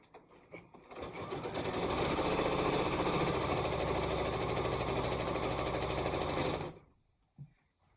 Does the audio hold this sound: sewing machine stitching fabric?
yes